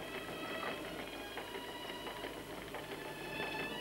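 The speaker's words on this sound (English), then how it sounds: "the wind's power transferred from the sweeping sails outside to the intricate gear wheels, belts and pulleys drives the massive grinding stones" Windmill machinery of gear wheels, belts and pulleys turning massive grinding stones for flour, a faint steady mechanical whir and clatter with a soft rhythmic grind and no talking.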